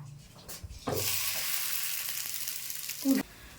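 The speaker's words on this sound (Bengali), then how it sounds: "তাওয়া গরম হয়ে গেছে গরম তাওয়ার মধ্যে দিয়ে দাও" A cauliflower-stuffed paratha goes onto a hot tawa and bursts into a loud, close, steady sizzle, with a brief clank of the pan near the end.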